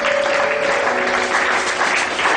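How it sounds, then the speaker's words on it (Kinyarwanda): A church congregation claps their hands together after a scripture reading, a dense, continuous burst of applause filling the room for a couple of seconds with no voices over it. "Mukoma amashyi kubw'ijambo ry'Imana."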